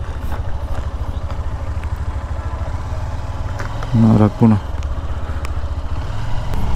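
Motorbike engine idling on a sandy embankment road at Musapur, a steady low throbbing putter heard up close while people talk briefly over it.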